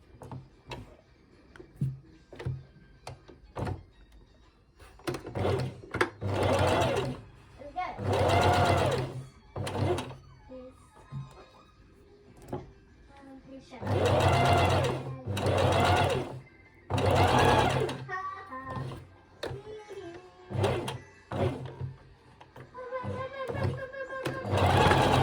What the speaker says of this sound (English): Back onto straight stitching.